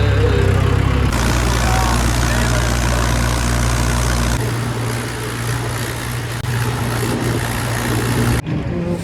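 A diesel tractor engine idles loudly and close while the trolley is loaded with bricks, a continuous low rumble that shifts in tone partway through before cutting off near the end.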